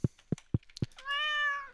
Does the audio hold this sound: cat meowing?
yes